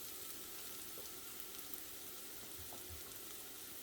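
Onions and peppers fry in a pan, giving a steady, dense sizzle throughout with a few soft stirring knocks near the end, no voices.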